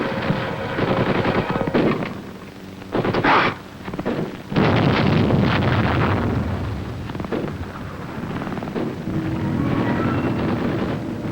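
Gunfire from a wartime training film: a team lays down covering fire in bursts of rapid shots and heavier blasts, loud and rough with uneven pauses between volleys.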